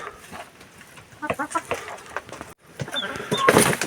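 Hens cluck and squawk in short bursts close by, with a brief pause before a louder, busier flurry of calls near the end.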